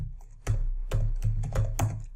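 Computer keyboard typing into a search box, four or five distinct, fairly loud key clicks spaced about a third of a second apart, close by with no voices.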